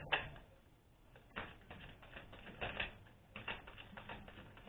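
Soft riffling and snapping of tarot cards being shuffled, several quick flurries with brief pauses, close and quiet.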